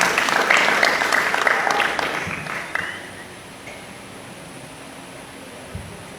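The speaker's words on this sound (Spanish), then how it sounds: "Recibamos la palabra de Dios, ¿verdad?, con alegría, con fuertes palmas" A church congregation claps together, a dense burst of applause for about three seconds that then thins out and fades into the hum of the room.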